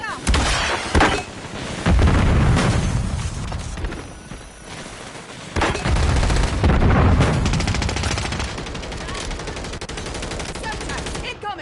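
Gunfire from the Fortnite video game, loud bursts of shots and explosions throughout, with game voices calling out over the shooting.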